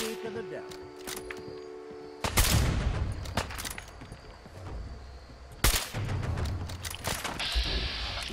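Rapid gunfire in Fallout 4 breaks out in loud bursts, sharp repeated shots and a sudden heavy blast mid-way, with a steady rumble of game sound running beneath.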